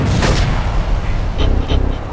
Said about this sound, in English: I'll use a grenade.